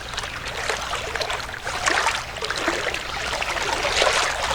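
A creek runs along the Union Canal, its water flowing and trickling in a steady, close wash with no voices over it.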